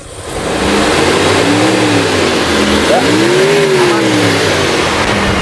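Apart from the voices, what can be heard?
Mitsubishi T120ss pickup engine revving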